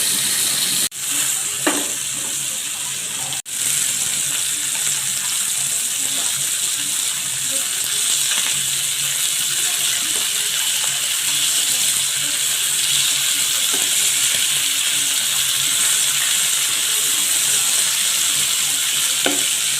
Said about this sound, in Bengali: মাছগুলো আমি কড়া করি ভাজা নিচ্ছি